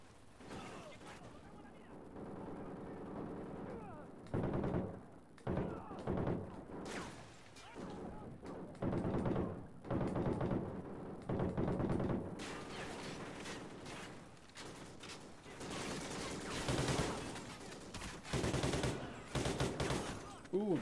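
Call of Duty: Ghosts gunfire, rapid machine-gun volleys and single shots in clustered bursts with mechanical clatter, loud and close, separated by brief lulls, with a player talking at times.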